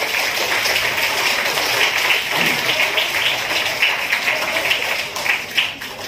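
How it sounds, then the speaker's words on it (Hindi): Audience applause rolls through a campus gathering in Malegaon honoring a young Rubik's cube solver, a steady mid-level patter of many hands with uneven swells, lasting several seconds. "जोरदार तालियां होनी चाहिए।"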